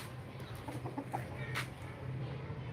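Soft, low clucking from a brooding hen sitting on its nest, over steady background hum, faint and somewhat distant.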